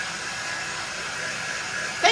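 A hair dryer blows steadily on craft pieces, a constant close whooshing hum throughout, with a brief voice near the end.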